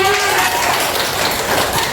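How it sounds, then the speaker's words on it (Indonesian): Students in a classroom guidance session clap together, a dense, steady burst of hand claps filling the whole short moment at close range. "Tepuk tangannya."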